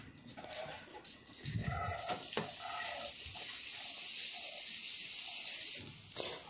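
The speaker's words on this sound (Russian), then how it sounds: "На разогретую сковороду сначала выкладываем морковь." Carrots hit a preheated pan and sizzle, a bright steady frying hiss with a few stirring scrapes, close up and without talk.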